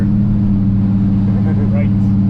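A 1987 Monte Carlo SS on the move, its engine a loud, steady low drone filling the cabin as the transmission shifts into gear, with a faint voice briefly audible over it.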